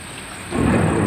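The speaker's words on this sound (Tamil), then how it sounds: "இது வீட்டுக்கு பின்னாடி இங்கே கொஞ்சம் நல்லா தெரியுது மழை" Heavy rain falls behind a house, a dense roaring wash that swells loudly midway, with a low thunder rumble underneath.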